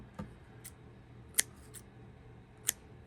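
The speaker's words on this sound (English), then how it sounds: "We're going to cut our work" Scissors snip through crochet yarn, a few soft clicks followed by two sharp, close cuts spaced about a second apart against a quiet room.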